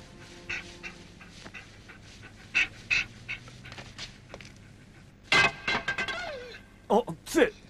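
A trained guide dog pants in short, quick breaths near the microphone, interspersed with brief louder sounds and some speech.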